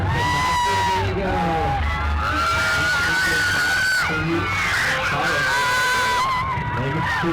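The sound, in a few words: crowd cheering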